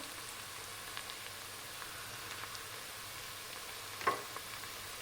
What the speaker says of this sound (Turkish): Salçamın kokusu giden kadar kavuruyorum.